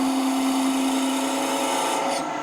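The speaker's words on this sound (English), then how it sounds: "This is a thin parting tool from" A thin D-Way parting tool cuts into a wood spindle on a lathe, giving a steady, close rasping scrape with a constant high whine that runs without a break, then eases slightly near the end.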